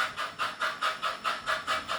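HO scale Bachmann Baldwin 2-8-0 model steam locomotive with a Tsunami 2200 steam sound decoder, Durango & Silverton livery, giving a steady rhythm of loud chuffs, about four per second, alone and close by.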